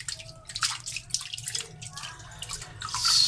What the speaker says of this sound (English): now I'm going to just put it in normal water and just rinse it.